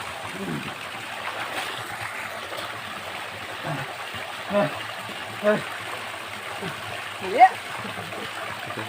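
A Konkan river where people swim and wash clothes runs with a steady wash, broken by a few sharp splashes near the end, while voices chatter and call close by.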